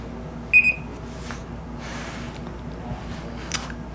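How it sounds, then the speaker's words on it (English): Setra SRPM room pressure monitor sounding its audible alarm: a short, loud, high electronic beep pattern near the start, with faint ticks afterward against a quiet background. "You can also change the volume on the audible alarm with 4 stages."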